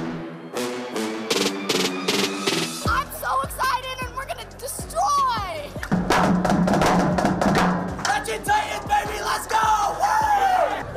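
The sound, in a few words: school crowd cheering and yelling at a clap out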